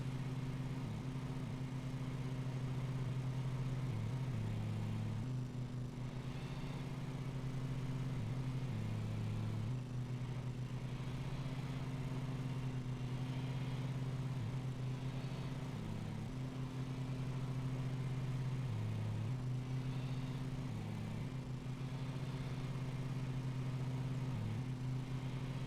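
Lawn mower engine in the video game Lawn Mowing Simulator, a steady droning hum held throughout with slight periodic dips in pitch as the machine works.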